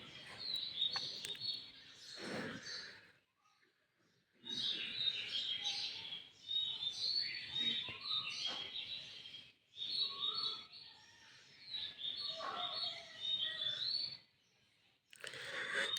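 Birds chirp and tweet repeatedly during a village morning walk just after dawn, in bursts of bright calls with short quiet gaps between them, moderately close.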